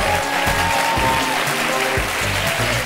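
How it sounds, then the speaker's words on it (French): A studio audience at a French television game show applauds steadily, with dense clapping running throughout over a rhythmic low-pitched backing. "Je vous laisse rejoindre la bulle sous les applaudissements du public"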